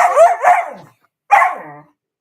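A dog in a game barks and yelps in two short bursts, the first a pair of close, loud calls and the second a single whining bark that trails off, with a brief silence between.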